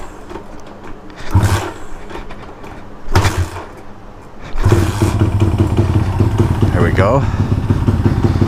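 Motorcycle with a slow carburettor started for a short cruise, first sputtering in two brief bursts, then settling into a steady, loud idle-to-rev roar close by, with a short spoken remark over it.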